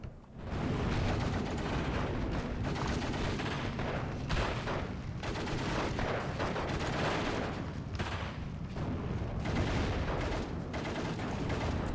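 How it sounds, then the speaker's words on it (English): Battlefield gunfire in the World War II strategy game Steel Division II: dense, continuous machine-gun bursts blend with heavy artillery booms into a loud, unbroken roar for the whole stretch. "He reveals himself by shooting the machine gun, and I get a kill."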